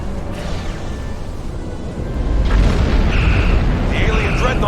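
Starship weapons fire and explosions rumble in the space game Star Trek Online, with deep, sustained booming and a swell in the low end partway through. Laser-like tones cut in over the blasts, loud and close.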